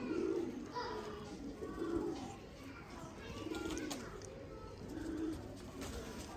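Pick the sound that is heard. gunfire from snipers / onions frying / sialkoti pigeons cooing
sialkoti pigeons cooing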